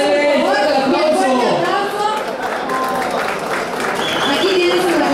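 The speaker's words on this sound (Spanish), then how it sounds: "¡Que pase el aplauso!" An audience at a live award event for a music group applauds, a broad wash of clapping half-buried beneath loud, sustained voices and cheering from the crowd.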